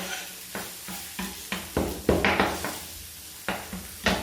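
Mushrooms sautéing in a pan during a culinary school cooking demonstration, with close sizzling and a run of sharp scraping stirs and clacks of the utensil against the pan, repeating roughly every half second.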